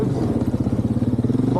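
An ATV quad engine runs steadily while riding, a close, rhythmic low throbbing putter with constant loudness, with someone talking over it.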